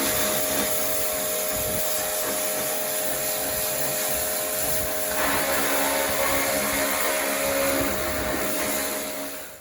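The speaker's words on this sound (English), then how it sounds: "I'll grab the karcher and get it set up." A Karcher pressure washer runs continuously with a loud, steady whine and hiss while cleaning parts of a Holden FB car undergoing restoration.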